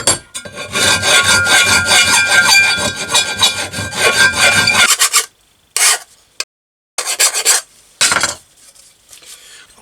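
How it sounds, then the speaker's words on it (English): A hand file rasping back and forth on a metal part for a hard tail bobber motorcycle restoration, a dense run of quick strokes for about five seconds, then a few isolated short strokes with silences between. "So now we'll get the file out and try and clean that up."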